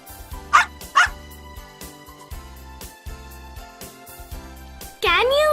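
A dog barks twice in quick yips early on, then again at the close, set over a bouncy children's music backing in a learning rhyme.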